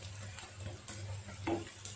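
An egg fries in a pan at home with a steady soft sizzle, a brief scrape and clunk marking the moment it is turned over, with no voices.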